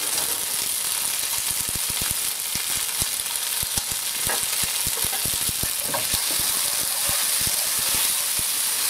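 Dried red peppers fry in a hot wok for kung pao chicken, a steady loud sizzle and hiss with quick scraping stir strokes clicking throughout.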